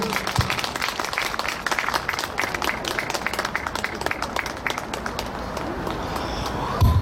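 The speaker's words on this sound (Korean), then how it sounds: "여러분 박수 크게 주세요" Outdoor family concert audience on the Han River applauding a singer, a continuous patter of clapping from a crowd, with faint voices mixed in and a few sharper claps near the end.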